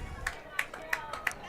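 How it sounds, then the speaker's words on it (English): Family members cheer the Redwood Valley runners from just in front of the press box at a varsity track and field meet. Four sharp shouts or claps come at a steady, even beat over a low crowd murmur. "Got some family members right in front of the press box here cheering on the Cardinals of Redwood Valley"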